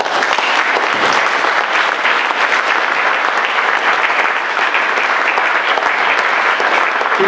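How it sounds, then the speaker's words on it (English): Audience applause at an annual town meeting, a steady dense clapping from a large crowd that lasts throughout without pause, loud and filling the hall. "Didn't I say no applause?"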